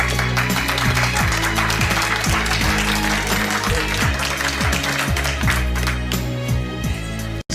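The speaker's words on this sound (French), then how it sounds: "vous venez de vous applaudir vous" A seminar audience claps in steady, dense applause with a few sharper individual claps, sustained throughout and cutting off abruptly at the end.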